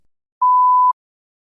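A single clean electronic test beep, steady in pitch and lasting about half a second, alone in silence before a recording prompt.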